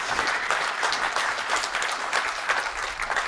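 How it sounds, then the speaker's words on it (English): Audience applause breaking out at a hardware product rollout presentation, a dense, steady wash of many hands clapping at close range that holds for a few seconds without talk. "it's worth a clap."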